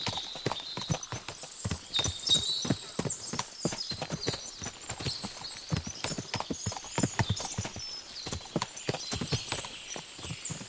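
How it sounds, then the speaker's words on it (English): Many horses' hooves clip-clop in a rapid, overlapping trot in the video game Kingdom Come: Deliverance II, with occasional whinnies and faint voices mixed in, steady and fairly close throughout. "What a lot of horses!"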